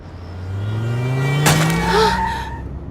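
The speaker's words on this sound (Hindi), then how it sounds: "बारिश में तेज गाड़ी चलाना खतरनाक है, पता नहीं?" A car speeds along a wet road in the rain, its engine rising in a swelling rumble before a sharp skid screech cuts through, loud and close with no voices.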